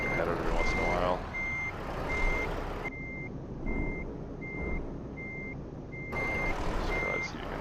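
Regular, evenly spaced reversing beeps sound from a truck in the Euro Truck Simulator 2 game, with about a dozen tones over a steady engine rumble that drops away midway and then returns.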